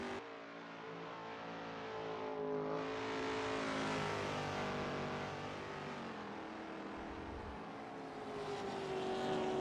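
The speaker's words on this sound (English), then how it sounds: "Hear all the other cars screaming along behind, rushing to put their times in." Race cars scream around the Cadwell Park circuit during a club racing round, engines rising and falling as they rev and pass at a distance, a continuous wash of high-pitched motor noise with no talk.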